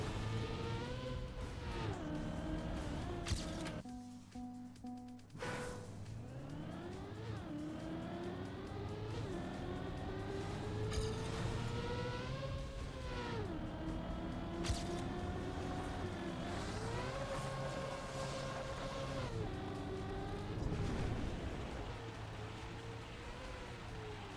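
A race car engine in an ice-track racing video game, loud and continuous, with rising and falling revs as the car slides through turns and a brief dip in engine tone midway.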